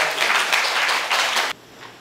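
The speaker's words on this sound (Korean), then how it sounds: "큰 박수로" Loud, close applause from an audience at a Korean Catholic bishops' ecology symposium, a dense burst of clapping that stops abruptly after about a second and a half and leaves a quiet room.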